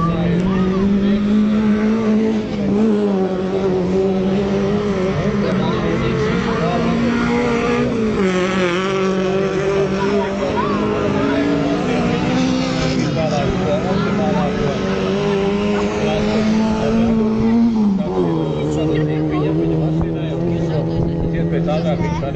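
VAZ rallycross race cars at a cross event in Smiltene, engines droning steadily with revs swelling and dipping, loud and continuous, while an announcer's voice talks over them.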